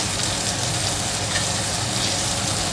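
Fish frying in a pan, a steady, close, continuous crackling sizzle of hot oil with no talking.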